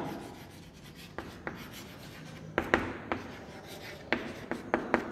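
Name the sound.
writing the multiples of 5 during a maths lesson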